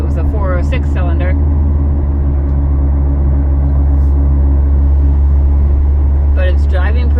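A 2006 Mitsubishi Outlander on the road gives a steady, loud low engine and road rumble inside the cabin, with a person talking at the start and again near the end.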